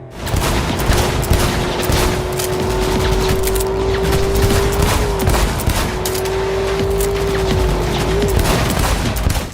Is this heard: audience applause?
no